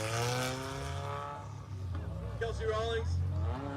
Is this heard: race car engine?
yes